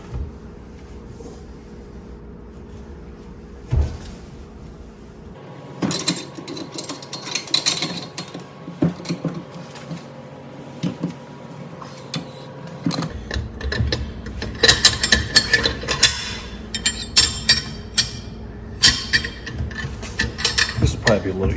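Ratchet straps are cranked tight to clamp a vise in a garage. Bursts of rapid clicking ratchet strokes sound up close, broken by pauses, with a person speaking at times.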